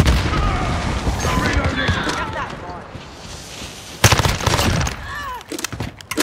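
A frag grenade explodes amid gunfire in Call of Duty Modern Warfare multiplayer: dense rattling shots and shouted voices, then a sudden loud broadband blast near the end followed by more crackling fire.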